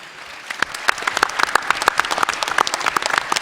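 Applause from the crowd at a 2018 Chilliwack councillors' debate starts thin, then swells into dense, continuous clapping from many hands.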